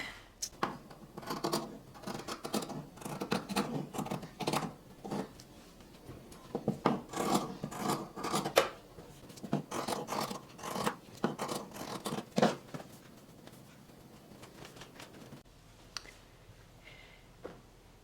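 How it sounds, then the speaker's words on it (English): Fabric scissors trim away seam allowance on a dress being sewn, with steady repeated snips and rustling of cloth up close, going on continuously for most of the stretch before tapering off near the end. "I'm going to cut a bit of the seam allowance away from here and also from over here"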